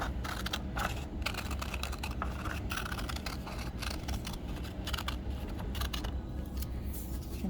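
Scissors snip through paper close up in a quick run of crisp, repeated cuts while cutting out a shape, with no talking.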